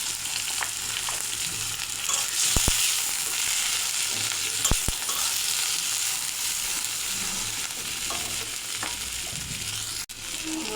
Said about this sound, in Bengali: चिंगड़ी माछ একটু হালকা করে ভেজে নেব।